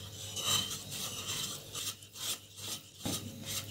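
Cake batter for a tutti frutti tea cake being mixed with dry ingredients in a bowl, a steady rasping, scraping stir with repeated strokes, close and fairly quiet, no talking.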